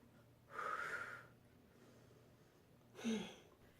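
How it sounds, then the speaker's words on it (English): Two deep breaths close to the microphone, each a soft, airy rush about a second long with a slight wheezy edge, separated by a quiet pause over low background hum. "I'm taking deep breaths in and out."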